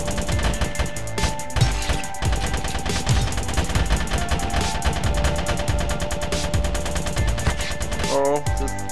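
Rapid automatic weapon fire in Grav, a sci-fi shooter, during a two-versus-two player match on a moon map. Dense, continuous bursts of shots run loud and close for most of the clip, ending in a short mechanical clatter.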